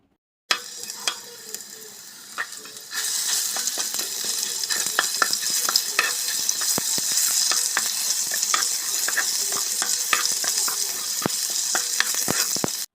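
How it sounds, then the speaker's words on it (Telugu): Cumin seeds, fenugreek seeds and ginger garlic paste frying in oil for a small-fish curry, a steady loud sizzle that swells after a few seconds, with scattered crackles and spoon scrapes throughout. "ఆయిల్ వేసి కొంచెం జీలకర్ర, మెంతులు, అలాగే అల్లం వెల్లుల్లి పేస్ట్ ఇవన్నీ కూడా దోరగా వేగాలండి."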